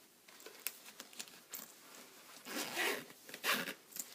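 A zipper on a fabric bag is drawn in short, scratchy pulls, quiet and close, ending with a couple of quicker, louder zips.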